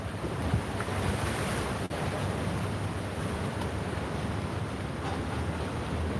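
River water flows along a walkway in Thonglor, Bangkok, as a steady, close rushing wash with wind buffeting the microphone.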